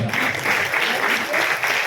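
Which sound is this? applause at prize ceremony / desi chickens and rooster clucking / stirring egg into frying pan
applause at prize ceremony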